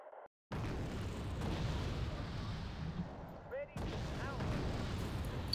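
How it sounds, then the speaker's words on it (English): Mortar fire in the strategy game Wargame: Red Dragon, a continuous rumbling barrage of booming impacts with a brief gap, under a low game soundscape with faint voice-like tones. "Oh my God, with the mortars"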